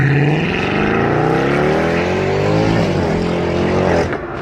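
A Mercedes car engine runs loud and close, its pitch rising steadily and then dropping back before easing off, with no talk over it.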